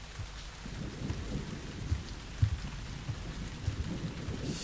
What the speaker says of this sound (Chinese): 下雨，